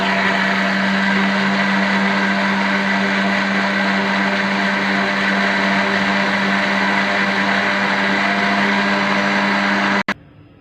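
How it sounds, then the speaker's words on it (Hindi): A blender whirs steadily, blending a banana milkshake with sugar, loud and continuous with a steady low hum, then cuts off abruptly near the end. "इसे अच्छे से ब्लेंड करेंगे।"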